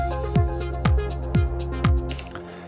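A driving electronic techno groove from a drum machine and synth, with a deep kick thudding roughly twice a second under bright, pulsing synth tones.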